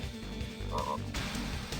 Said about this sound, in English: Oh no, they're Toad Kings.